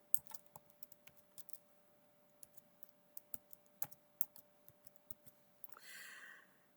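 Irregular clicks of typing on a computer keyboard, quiet and close, in scattered bursts of keystrokes with short gaps, ending in a brief soft rustle, with no talking.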